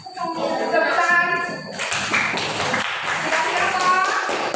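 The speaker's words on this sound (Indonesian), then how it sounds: "Tepuk tangan." A group of people claps hands at a training session after a winning team is announced, a burst of scattered clapping that follows a voice speaking and continues steadily to the end.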